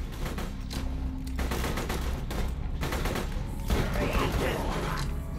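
Pistol fire in Borderlands 2: bursts of rapid shots in quick clusters, then pauses, loud and close, with game effects mixed in and a voice speaking briefly.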